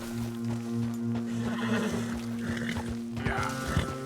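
A horse in Red Dead Redemption 2 whinnies in a drawn-out, wavering call over a steady low background hum, fairly close and clear, with no talking.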